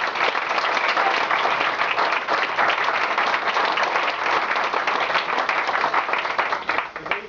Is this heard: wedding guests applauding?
yes